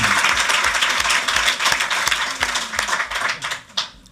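Board of Education meeting attendees clap after a unanimous vote, a dense burst of applause from a small group that thins out toward the end.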